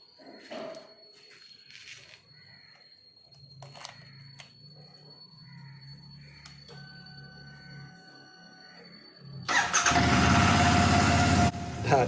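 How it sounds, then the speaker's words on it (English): A Royal Enfield Interceptor 650 motorcycle, just reconnected after battery removal, cranks and fires up near the end, bursting into a loud, rough idle after a stretch of quiet clicks and workshop noises. "That is the sweet engine note of the Interceptor."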